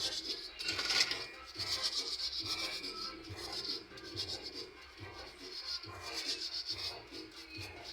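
A brush scrubs metal nail nippers clean in quick, quiet bristly strokes, repeated in short bursts with brief pauses between them.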